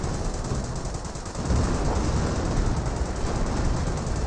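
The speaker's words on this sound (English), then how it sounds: "Got a lot of artillery coming in from both sides." In a Company of Heroes World War II battle, dense, continuous gunfire and artillery fire roar loudly, with a heavier thump partway through and no voices.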